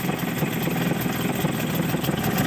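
A Hangkai 6hp two-stroke outboard motor runs steadily after a carburetor rebuild, giving a continuous buzzing drone with a fast, even pulse, close and fairly loud, with no talking.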